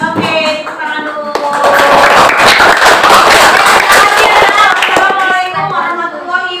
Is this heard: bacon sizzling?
no